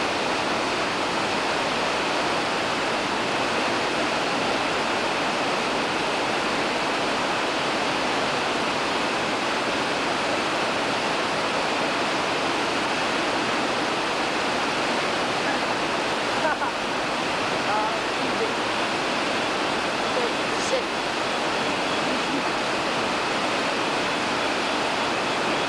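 River water rushes in a constant, dense roar during a night crossing by a British-built Land Rover in Madagascar, steady and loud with no pauses and only slight variation.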